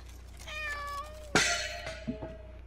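A cat in the video game Layers of Fear: Inheritance meows a few times, a clear close cry followed by a sharper, louder yowl and a couple of softer short mews, with no talking.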